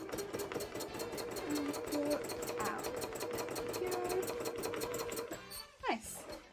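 A domestic sewing machine stitches free-motion embroidery, running in a steady fast mechanical chatter for several seconds before it stops, then a short clack and rustle follow.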